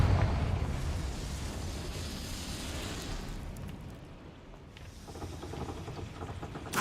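A Confringo fire spell blast in the Hogwarts Legacy video game, heard as a dense rumbling, crackling roar that fades slightly midway, then swells again before ending on a small pop.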